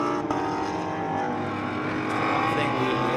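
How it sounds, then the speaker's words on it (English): Ford Mustang GT4 race cars roaring down the straight at Virginia International Raceway, a loud sustained engine howl rising slightly as they pass, with a commentator talking over it. "It looks like that the Mustangs just got enough pull there, Cal."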